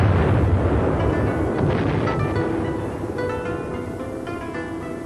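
Archival film audio of fierce aerial bombing of the battleships Prince of Wales and Repulse, a continuous loud roaring rumble of explosions and blasts that slowly eases, with no one speaking.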